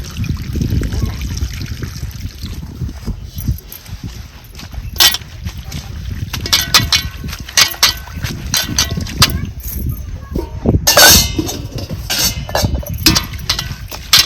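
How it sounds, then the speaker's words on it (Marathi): Water splashes and trickles as soil-coated leafy vegetables are swished and rinsed in two changes of water in a vessel, with intermittent sloshing bursts and a voice talking over it. "चांगली दोन पाण्याने आपल्याला खळा खळा धुवून घ्यायची"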